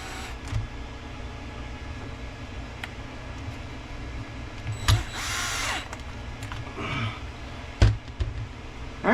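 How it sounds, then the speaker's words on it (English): A power driver tightens the screws holding the drivetrain pins of an Arrma Limitless V2 RC car over a steady background hum, with short whirring bursts and a few sharp clicks spread through the clip. "Tighten down our screws that hold our pins in."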